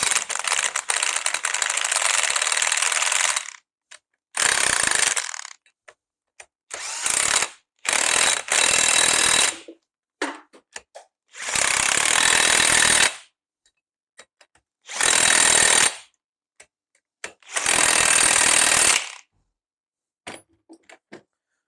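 Impact gun driving in a new front wheel bearing on a Renault Trafic van, heard as loud bursts of whirring rattle, each lasting one to two seconds, repeated about eight times with silent gaps between.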